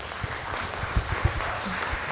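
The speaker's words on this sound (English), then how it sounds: "give applause one more" An audience at an international public lecture and demo day claps in a modest, fairly soft round of applause with scattered distinct claps.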